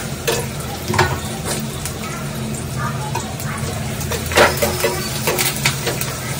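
Onions already browned in a hot pan sizzle steadily as curry leaves are added for a Marathi breakfast poha, with a spoon scraping and stirring in bursts, close and loud, and someone speaking over it.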